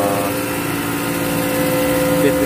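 An industrial-size split system condenser compressor runs nearby with a loud, steady mechanical hum and drone carrying constant tonal whine throughout.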